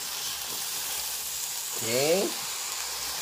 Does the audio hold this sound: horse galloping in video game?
no